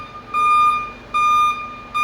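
Loud, steady beeps from a Mercedes Arocs 4145 truck's reversing alarm repeat at regular intervals, each tone sustained and close by, with no voices present.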